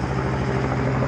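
A black military helicopter drones loudly and steadily overhead, its rotor beating in a fast, even thump throughout.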